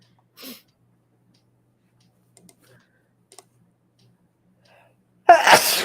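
A single loud, sharp sneeze bursts out near the end after mostly quiet, broken only by a brief faint sound and a few light clicks.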